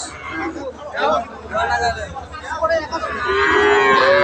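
Sahiwal cross heifer calves moo and low among a busy cattle-market crowd, with chatter and babble underneath and a long, loud bellow toward the end.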